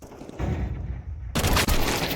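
Rapid gunfire bursts in Counter-Strike during a professional IEM Sydney 2023 match on Ancient, loud dense shots coming in two clusters with a sharp rise partway through.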